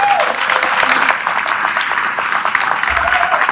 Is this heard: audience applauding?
yes